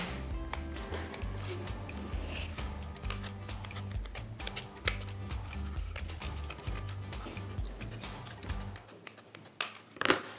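Scissors snip repeatedly through card up close, with soft crisp cuts and small ticks over a quiet background, then a pause near the end.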